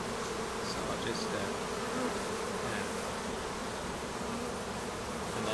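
Honeybees buzz in a steady, dense drone around an opened Kenya top bar hive during an inspection of sealed brood, close and continuous with no talking.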